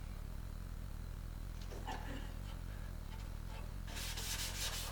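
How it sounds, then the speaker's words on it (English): Someone scrubs and sands the dashboard of a 1965 Corvair, a faint, continuous rubbing and scraping with a brief burst of sharper, brighter sanding near the end. "I'm going to keep scrubbing and sanding"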